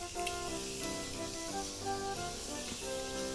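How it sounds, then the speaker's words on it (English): Morphe Continuous Setting Mist is sprayed onto a face, making a soft, airy hiss that runs under steady background music. "I'm gonna go ahead and spray my face."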